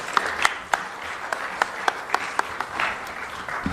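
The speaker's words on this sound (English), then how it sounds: "Huge round of applause for Mr. Vijay." Audience applause at a design week talk at Karnavati University in Ahmedabad, a steady crowd clapping with sharp individual claps standing out, no speech.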